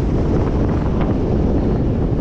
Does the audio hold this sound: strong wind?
yes